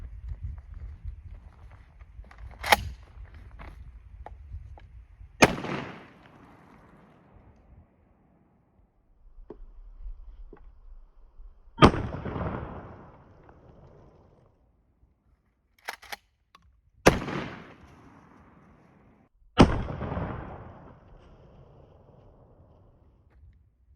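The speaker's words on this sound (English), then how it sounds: "I'm going to shoot twice." Sharp gunshots ring out at a plastic bottle set on a hickory log in the Missouri hills, about six loud cracks spaced seconds apart, each trailing a short echo across quiet woodland.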